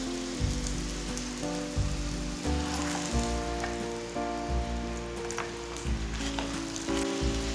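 An egg cheese paratha fries in oil on a pan, giving a steady close sizzle with occasional crackles, heard alone with no talk.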